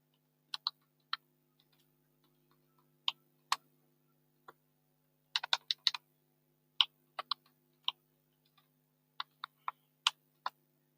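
A password being typed on a computer keyboard while setting up Active Directory on Windows Server 2022 produces sparse, crisp key clicks in irregular bursts, including a quick flurry midway, close and quiet with no talk.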